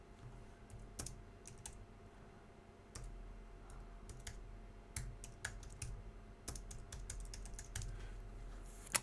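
Quick, uneven keystrokes tap on a computer keyboard close by, bursts of clicks with short pauses and a few louder hits, no voices present.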